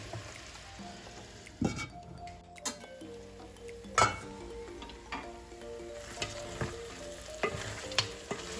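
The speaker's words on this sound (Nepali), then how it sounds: "मसला राखेपछि पनि यसरी राम्रोसँगले भुटिनुपर्छ" Masala for a Nepali goat curry frying in a pan and stirred by hand, with intermittent scraping and clinks of the spoon against the vessel over a soft continuous sizzle, close up with no talking.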